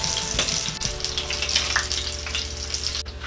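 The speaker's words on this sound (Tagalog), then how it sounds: "Ngayon ay susunod naman natin sa pagprito itong ating patatas." Potato pieces frying in hot oil for kalderetang tuna give a loud, steady sizzle and crackle, with occasional stirring or utensil clinks and no voices.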